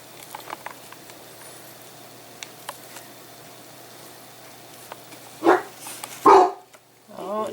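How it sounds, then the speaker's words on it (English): A dog barks a few times in short bursts, fairly close and loud, after a stretch of quiet room tone with faint background patter. "dog's going off."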